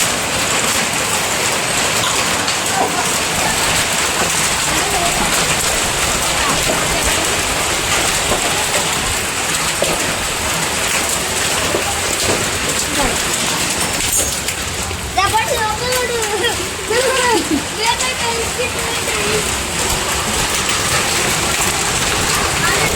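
Hail and heavy rain pelt a home in a dense, continuous hiss with scattered sharp impacts, while voices, including a child's, talk over it in the latter part.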